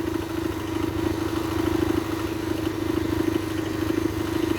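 A smoky, troublesome motorcycle engine runs steadily after starting, a loud, close idle with a rapid pulsing beat and a strong low hum that holds even throughout.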